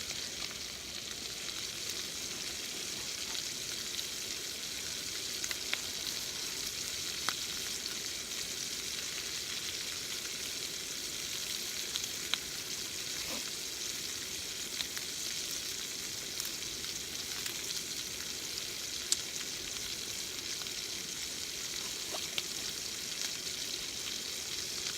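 Garlic fries in a pan for Italian soup at a cold-weather camp, a steady close sizzle with faint crackles and a few sharp pops scattered through it, and no talking.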